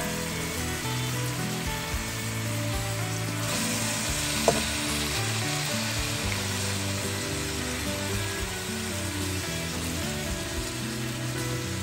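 Beef sizzles steadily in a hot pan for a beef and broccoli dish, a constant bright frying hiss with occasional stirring scrapes and one sharp clink, no talking.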